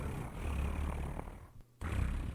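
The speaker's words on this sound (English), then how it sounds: "She held the cat to her chest, and it purred loudly." A cat purrs loudly as an audiobook sound effect, a close, rough low rumble that runs continuously, breaks off briefly, then resumes.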